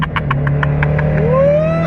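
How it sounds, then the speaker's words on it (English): A turbocharged K-swapped car making about 402 wheel horsepower runs on a dyno, its engine tone climbing steadily as the revs rise, over a low steady hum with a few sharp knocking pulses at the start. "And the car sounds ridiculous on the dyno."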